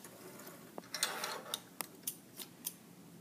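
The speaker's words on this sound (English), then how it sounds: "and then cut those threads." Scissors snipping sewing threads after a seam on a drawstring bag, several quiet, close, sharp clicks and snips spaced irregularly over a soft background.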